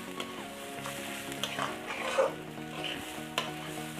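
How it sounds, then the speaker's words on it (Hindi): Rice being stirred while frying in a kadhai for vegetable pulao, a soft continuous sizzle with scraping stir strokes and occasional clinks of the spoon against the pan, over quiet background music and no talking. "कंटिन्यूअसली आप लोगों को ये चलाते रहना है क्योंकि नहीं तो नीचे कढ़ाई में लग जाएगा"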